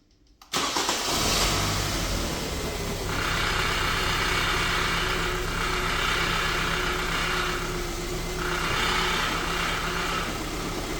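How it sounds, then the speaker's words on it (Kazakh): A Hyundai Sonata with an engine fault starts after a brief silence, catching at once and settling into a loud, steady running drone that swells and eases a few times, close by and without voices. "Қане, машина оталдыр жүр."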